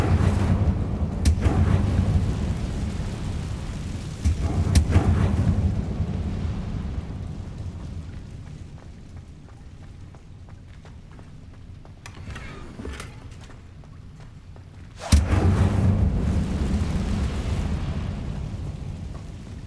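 The Incendio fire spell in Hogwarts Legacy flares in three roaring, rumbling whooshes, each bursting in sharply and fading slowly, with quieter ambient rumble between them.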